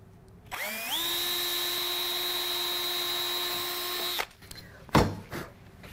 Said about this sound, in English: I'm gonna use a 16th inch drill bit and I'm gonna drill into here.